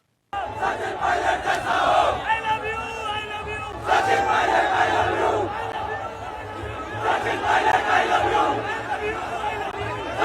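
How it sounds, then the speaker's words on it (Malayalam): Dense political crowd packed shoulder to shoulder greets Sachin Pilot's convoy in Rajasthan with loud, continuous shouting and slogan chants that swell in waves, a low vehicle rumble underneath. "സൂചി കുത്താൻ ഇടമില്ലാതെ ആൾക്കൂട്ടം തിങ്ങി നിറഞ്ഞുകൊണ്ട് സച്ചിൻ പൈലറ്റിന് അഭിവാദ്യം അർപ്പിക്കുന്നത്"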